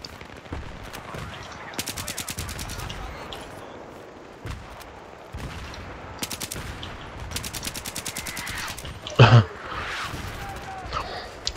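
Suppressed Scar-L rifle fire in the first-person shooter Battlefield 3, repeated rapid automatic bursts with sharp clicks, alongside distant gunfire, explosions and battle ambience, plus a brief heavier thump near the end.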